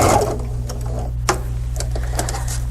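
A short run of a sewing machine stitching straight toward a slit in fabric, with light, quick clicking and a soft mechanical rattle over a steady low hum.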